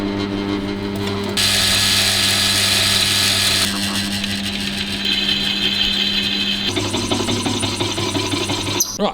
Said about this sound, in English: let's go and drill this one.